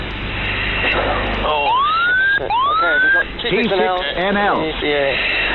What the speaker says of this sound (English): soon sirens start sounding off